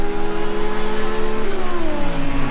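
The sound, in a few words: Audi R8 GT race car accelerating out of corner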